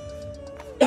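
A single short cough bursts out near the microphone from someone eating food fried with chillies, coming sharply after a brief quiet moment.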